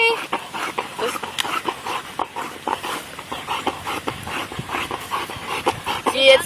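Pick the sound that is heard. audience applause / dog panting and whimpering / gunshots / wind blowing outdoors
dog panting and whimpering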